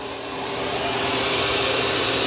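A Eufy S1 Pro washing robot vacuum runs at raised suction as it senses carpet, giving a steady, close, fairly loud broadband whoosh that swells slightly at the start and then holds even.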